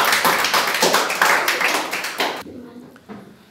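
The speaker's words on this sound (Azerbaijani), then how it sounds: "Səbinə bir alqış." A group claps for a child who won a quiz, a dense burst of applause that fades quickly, leaving a few scattered claps and near silence.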